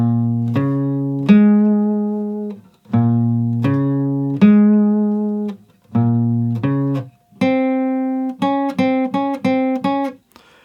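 Guitar in standard tuning picks out a melody alone, clear sustained single notes in a slow phrase that quickens into shorter plucked notes toward the end.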